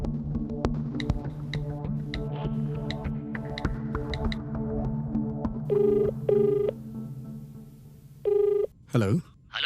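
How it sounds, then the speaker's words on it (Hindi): A telephone rings in short repeated bursts, starting partway through, heard over steady background music with a low throbbing hum; the rings come in a few close, loud pulses near the end. "अरे कितने लोग श्रावणी श्रावणी के लिए फोन करेंगे?"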